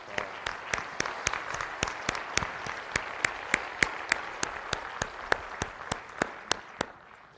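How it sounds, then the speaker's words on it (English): Steady, evenly spaced hand claps at a naturalization ceremony, sharp and regular at roughly three per second, with a soft crowd murmur beneath. "Let's give them one last round of applause."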